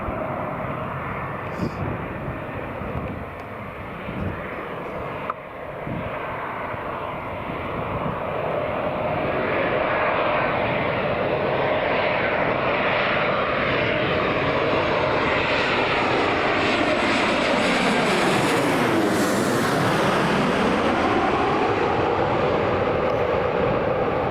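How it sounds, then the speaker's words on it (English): An Air France Embraer 190 jet airliner arriving at Newcastle International Airport in a light crosswind, its engine roar loud and steady, swelling and sweeping in pitch as it passes close by. "Here comes the Air France. There's the Embraer 190."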